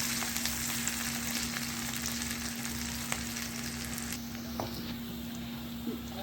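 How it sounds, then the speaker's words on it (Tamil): Onions sauté in a pan for a Tamil spleen fry, giving a steady, close frying sizzle with scattered small pops and crackles throughout, alone with no talk. "ஆனியன் நல்லா வதங்கிருச்சு"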